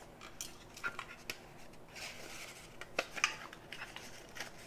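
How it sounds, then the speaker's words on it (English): Scissors snip the edge of a paper sticky note during card making, a handful of quiet, close, crisp cuts and paper rustles spread across a few seconds with no talking. "I'm going to cut off the edge of the sticky note because it's in my way"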